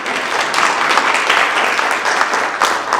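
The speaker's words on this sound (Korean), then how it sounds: "따뜻한 박수 한번 다시 부탁드리겠습니다" Warm applause from the audience at a Korea–Japan organ donation symposium in Busan, continuous, fairly loud and evenly spread clapping filling the hall throughout.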